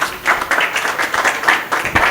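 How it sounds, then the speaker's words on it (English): Audience applause in a speaking event, a dense, steady patter of many hands clapping at close range, fairly loud and continuing without a break. "Put a round of applause for him."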